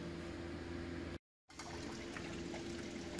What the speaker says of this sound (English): now I'm going to remove the hose and hopefully it'll all drain into that bucket.